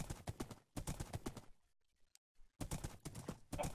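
Quick, rhythmic clip-clop of horse hooves in Minecraft plays in two bursts separated by a brief near-silent gap.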